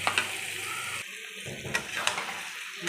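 Spice paste sautéed in oil in a pan for potol chingri gives a steady close sizzle with occasional scraping clicks of stirring, briefly dropping out partway through.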